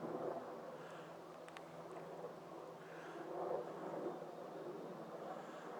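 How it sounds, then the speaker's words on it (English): An Army helicopter passes overhead behind trees, a loud, steady, washing roar that swells and fades slightly while staying present the whole time, with no voices. "It's got to be an Army helicopter."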